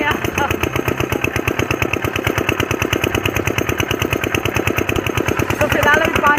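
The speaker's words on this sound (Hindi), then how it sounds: "सो इससे अभी फिलहाल हमको स्टार्ट करना है इंजन" Small engine driving a water pump, running steadily just after being started, with a rapid, even pulsing chug that stays loud and close for the whole stretch.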